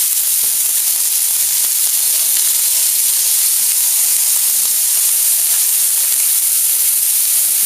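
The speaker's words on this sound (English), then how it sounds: "I'm going to fry that quite hard for about a minute" Squid fried hard in a hot pan for paella, a loud, continuous close-up sizzle and hiss with no pauses and no talking.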